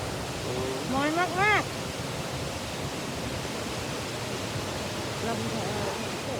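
Coo waterfall in Belgium sends up a continuous broadband rush of falling water, steady and enveloping, with a brief voice rising over it early on.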